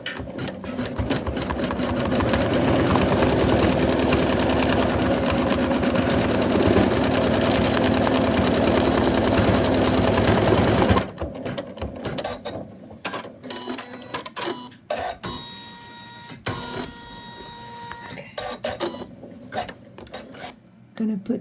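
An embroidery machine stitches a placement line on fabric for an in-the-hoop Santa doll, a dense rapid mechanical chatter that runs loudly and steadily for about ten seconds, then stops, leaving quiet clicks and handling noises.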